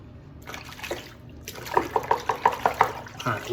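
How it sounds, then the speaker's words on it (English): Straight razor shaving gear is rinsed out under running water, with a soft trickle followed by a run of regular, close splashy sloshes. "we just rinsed it all out"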